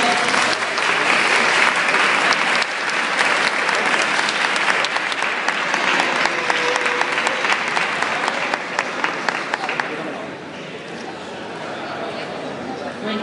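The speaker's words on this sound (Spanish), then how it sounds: "A ver, un aplauso para él." Spectators at a cosplay catwalk show in Gijón applaud a participant with lively, dense clapping for about ten seconds that then thins out, with voices audible in the mix.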